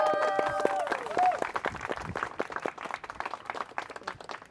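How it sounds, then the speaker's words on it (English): An audience bursts into a round of applause that thins into scattered claps, with a voice speaking over the start. "give them a round of applause"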